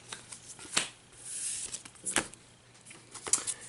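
Deck of cards for the Marvel Legendary deck-building game being shuffled by hand, several short riffling bursts with brief pauses between them, quiet and close, with no talk.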